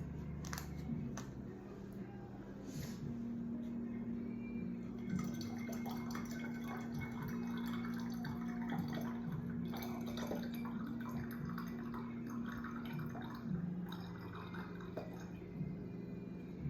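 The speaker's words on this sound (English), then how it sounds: "I don't have a funnel, so we're gonna try and pour this in here." Homemade herb ferment liquid poured into a jar without a funnel, a faint, uneven trickle with scattered drips over a quiet room hum, no voices.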